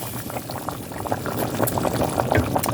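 Pork, whole potatoes and purple onion boil together in a pot, a steady close bubbling and gurgling that grows slightly louder over the stretch, with no talk.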